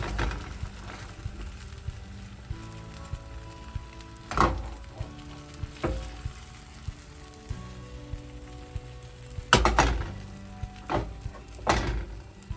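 A thin egg mixture for a keto tortilla sizzles steadily in a frying pan greased with beef tallow over low heat, with soft scraping and a few sharper clinks of a utensil against the pan, no talking.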